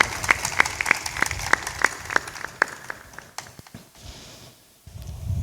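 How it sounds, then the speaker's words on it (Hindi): Audience at a live Hindi satsang in Bishanpur, Purnia, Bihar clapping in a steady rhythm of sharp, evenly spaced claps for several seconds, then trailing off into a brief quiet before room noise returns. "ताली बजा दो।"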